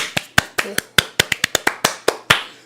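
Sharp slaps on a body, struck in an irregular quick rhythm of about a dozen distinct claps that mimic hand clapping, close and crisp with brief gaps between hits.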